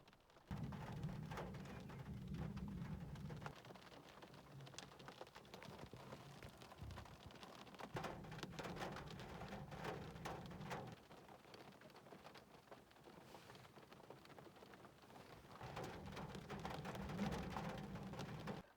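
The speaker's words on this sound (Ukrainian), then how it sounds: "Я спеціально до звукоізоляції записав відео, коли йде дощ." Rain drums steadily on the body of a ZAZ Sens car, heard from inside the cabin. The hiss swells and eases in waves, with low rumbling surges that come and go.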